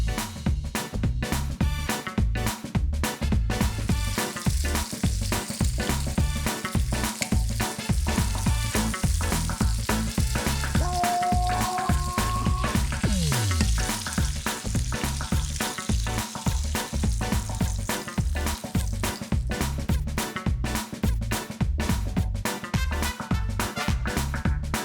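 Sausages and bacon fry in a pan on medium heat with no oil, giving a steady, close sizzle with crackling pops throughout and no talking.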